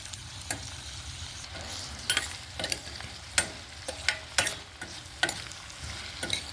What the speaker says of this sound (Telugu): కొంచెం సాల్ట్ వేసుకొని ఈ ఆనియన్స్ని ఫ్రై చేసుకుందాం